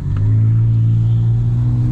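A Volkswagen Scirocco with an aftermarket exhaust holds a loud, deep droning rev, the engine note steady and close throughout these two seconds.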